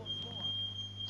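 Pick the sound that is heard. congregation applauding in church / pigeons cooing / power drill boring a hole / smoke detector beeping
smoke detector beeping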